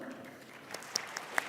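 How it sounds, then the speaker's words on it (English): Audience at the Esri Saudi Arabia User Conference plenary gives brief, faint applause, a thin scattering of claps with a few sharper individual hits standing out. "Give them an applause."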